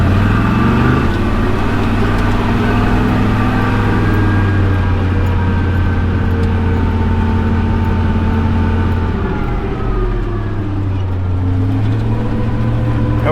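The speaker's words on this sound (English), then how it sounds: "we're just in four-wheel drive, driving around" A vehicle rolling along in four-wheel drive, its engine droning steadily and loud throughout with a sustained low hum and slight pitch shifts, no talking.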